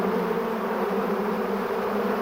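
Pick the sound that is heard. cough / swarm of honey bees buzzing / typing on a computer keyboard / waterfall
swarm of honey bees buzzing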